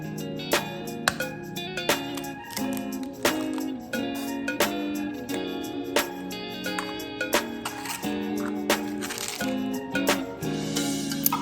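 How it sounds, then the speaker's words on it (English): Eggs are cracked one at a time into a separate container, giving a series of sharp cracks and taps spread across the stretch, fairly close, over a soft background. "I'll go ahead and crack my eggs out one at a time into a separate container"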